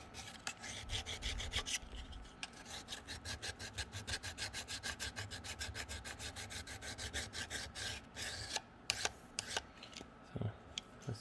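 A file rasps against the steel blade of a FELCO 13 hand pruner in rapid, even back-and-forth strokes, dozens of crisp scrapes in steady rhythm, close but fairly quiet, with a brief pause and a few clicks near the end.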